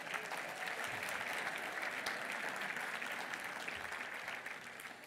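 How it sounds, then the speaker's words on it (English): A church congregation claps through a round of applause during a sermon, a dense, even clatter of many hands, fairly quiet and distant-sounding, tapering a little toward the end. "Give this guy a round of applause."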